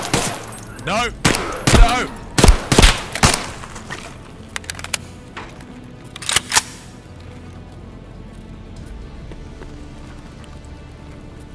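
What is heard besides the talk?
gunfire in the video game Escape from Tarkov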